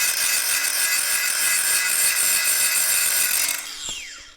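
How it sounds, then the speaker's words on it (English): An angle grinder grinds out a cracked weld on metal, a loud, harsh, steady close-up whine for several seconds that then cuts off and winds down. "I'm going to grind this weld out completely"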